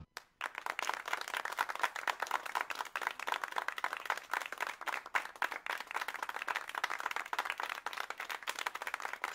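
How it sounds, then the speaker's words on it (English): Steady applause and clapping from a small live audience at a casual house address in Roanoke, dense and continuous throughout with no talk. "Give me a round of applause right now."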